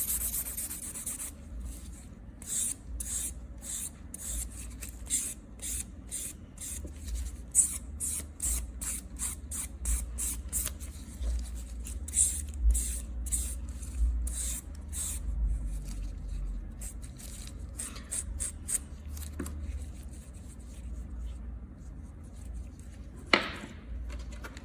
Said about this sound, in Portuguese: E agora eu vou utilizar a parte que é mais fina para polir,